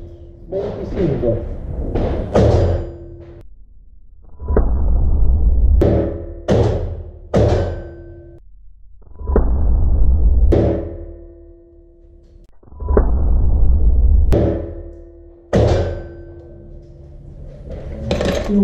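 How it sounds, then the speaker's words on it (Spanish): Taurus Tracker .357 revolver with a six-inch barrel fired in a series of sharp, loud individual shots with gaps between them, some in quick pairs, each followed by a short ringing decay at close range. "Tres disparos, 25."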